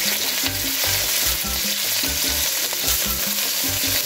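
Meat frying in about four spoonfuls of hot oil in a pan, a loud, continuous close sizzle and crackle running throughout, with music beneath and no talking.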